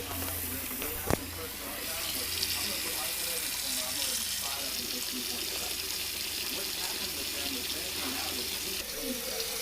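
Plantains rinsed under hot running tap water, a steady close hiss of flowing water with a brief knock near the start, and a voice talking underneath.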